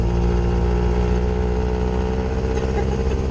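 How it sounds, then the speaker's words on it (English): A classic car that needs a new muffler runs with a loud, steady engine and exhaust rumble, close and continuous throughout. "Well, it needs a new muffler. It's too loud for what it is."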